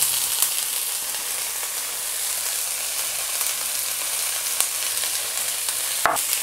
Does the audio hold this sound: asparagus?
yes